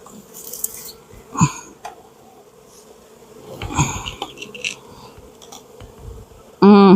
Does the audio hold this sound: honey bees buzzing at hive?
yes